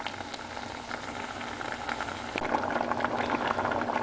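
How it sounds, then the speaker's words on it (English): Bolognese meat sauce with tomatoes simmering in a pot over medium heat, a soft continuous bubbling and popping that grows slightly denser partway through, with no talk. "The sauce is simmering"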